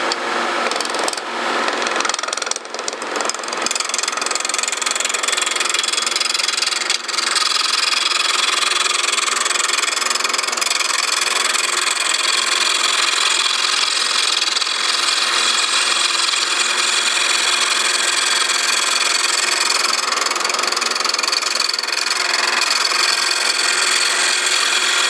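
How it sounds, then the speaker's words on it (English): A wood lathe spins a rustic offset walking stick while a round nose scraper, used like a gouge, cuts it. A steady, loud whirring hum runs throughout with no pauses, and some rougher scraping marks the first few seconds. "I'm going to use my round nose scraper once again"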